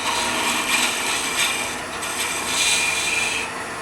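Wood turning on a lathe, shaping a centerless finial with light cuts: a steady, close rasping scrape of the tool against spinning wood, continuous with slight swells in intensity and no talking.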